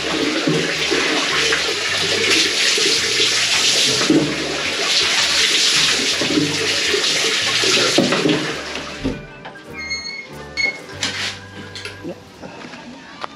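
Shower water pours and splashes steadily at close range for several seconds while someone bathes on a minivan camping trip, then stops, leaving scattered drips and small clattering sounds.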